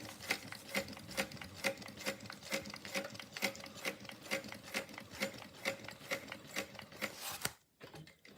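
A sewing machine stitches a bag seam around a curve in a slow, even series of mechanical clacks, about two per second, close and clear, ending in a short pause.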